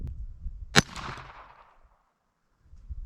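A single sharp gunshot from a Browning Buck Mark Contour URX pistol cracks outdoors and decays into a brief echo, with wind noise before the shot and quiet afterward.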